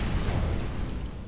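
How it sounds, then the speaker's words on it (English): A flashbang grenade detonates in Counter-Strike: Global Offensive, a loud, dull low burst that holds as a steady rumbling wash for over a second with no talk over it. "Deploying flashbang."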